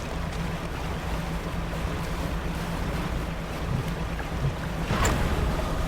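A small fishing boat in the game Dredge motors across icy water, a low steady engine drone under washing waves and wind, with a brief splash near the end.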